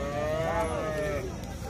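At a cattle market a cow gives a single long, moderately loud moo with some faint background noise.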